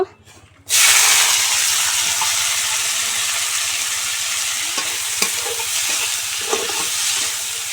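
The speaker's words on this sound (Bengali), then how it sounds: "এখন এই যে আলু আর পেঁয়াজ হলুদ এটা দিয়ে নেড়ে ছেড়ে নেব" Potatoes, onion and turmeric land in hot oil in a wok with a sudden loud sizzle after a quiet start, then a sustained close hiss broken by occasional spatula scrapes.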